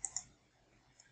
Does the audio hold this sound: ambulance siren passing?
no